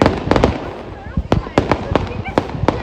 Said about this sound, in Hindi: यहाँ के पीछे दिख रहा है जो वे बम चल रहे